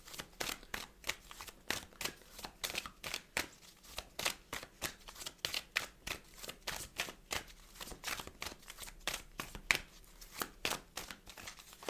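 Oracle cards are shuffled by hand in quick, rhythmic riffling bursts, close and crisp, repeating steadily and alone for several seconds.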